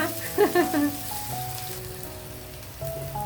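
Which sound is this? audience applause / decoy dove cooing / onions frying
onions frying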